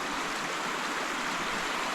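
Flooded river at Blue Pools, Briagolong, rushing steadily with a dense, continuous hiss and roar of fast water, close and unbroken, with no voices.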